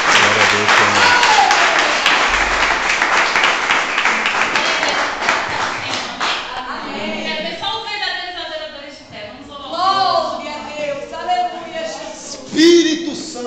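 Church congregation claps in dense, steady applause during a service; after several seconds the clapping thins out as a voice speaks over it.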